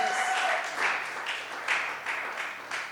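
A church congregation at a Pentecostal service applauding and cheering for Jesus, a broad wash of clapping that pulses in waves for a few seconds, with no distinct voice on top.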